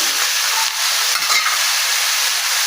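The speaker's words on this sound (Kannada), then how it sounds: "ಕ್ಯಾಪ್ಸಿಕಮ್ ಇದಿಷ್ಟು ಹಾಕಿ ಚೆನ್ನಾಗಿ ಫ್ರೈ ಮಾಡ್ಕೊಂಬಿಡೋಣ" Cabbage, carrot, beans and capsicum fry in a pan for vegetable fried rice, a steady loud sizzling hiss filling the whole stretch with faint stirring scrapes, no voices.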